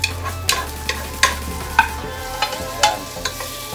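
Ground meat and tomatoes stirred in a frying pan for Filipino giniling, with a spatula scraping and clacking against the pan in irregular strokes over a soft, steady sizzle. Nobody speaks.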